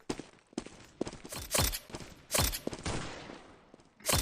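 Video game gunfire crackles in quick bursts, several sharp loud shots spaced across the moment with brief gaps and some rapid volleys, heard alone without talk.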